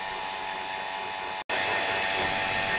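Steady broadband machine drone of a vacuum pump running for acrylic vacuum forming, continuous and fairly close, with one abrupt cutout about halfway before it resumes at the same level.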